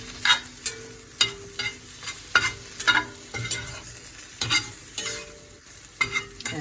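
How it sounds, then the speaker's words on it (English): Lion's mane mushrooms stirred in a frying pan with pepper, a spoon scraping and tapping in irregular near strokes over a soft, steady sizzle, with no talking. "and stir to combine."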